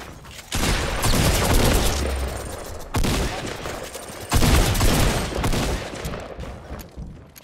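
Fortnite gunfire comes in three loud, dense bursts of rapid shots, each lasting a second or more, with brief quieter gaps between them.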